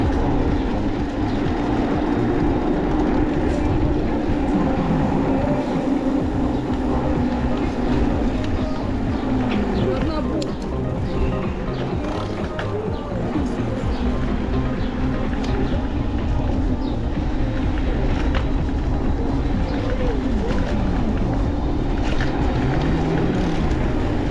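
An electric commuter train rumbles past in Crimea, a loud continuous low roar and rattle of wagons lasting over twenty seconds, with voices faintly audible under it.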